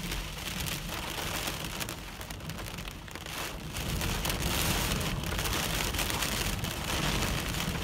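Heavy thunderstorm rain pounds steadily with gusty wind roaring throughout, loud and close, with no voices.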